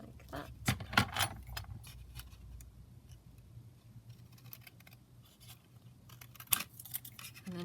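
Scissors trimming paper for policy envelopes, a few quick crisp snips up close, then soft rustling and scattered light clicks of handling paper in a quiet room.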